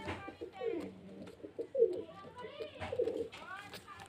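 Pigeons coo in soft, throaty bursts close by in Beldanga, a few rolling calls spaced out, with a person talking alongside them.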